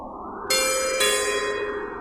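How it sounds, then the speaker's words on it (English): Video game doorbell in Hatoful Boyfriend, a clear two-tone ding-dong chime, two bright struck notes half a second apart that ring out and slowly fade. "How was there a doorbell in a cave?"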